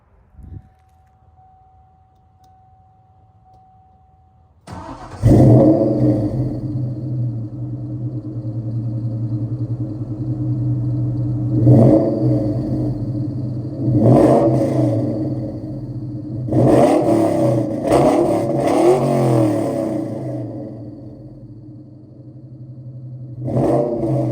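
A Ford 4.6 4V engine idles with a deep rumble, then revs hard several times, each surge rising and falling, close and loud.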